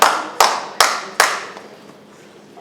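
Four sharp, evenly spaced hand claps ring out close by at a public meeting, each with a short echo, followed by a quiet tail and a faint final clap.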